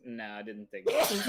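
A person sneezes once, loud and close, right after a stretch of casual conversation between players during a tabletop role-playing game session.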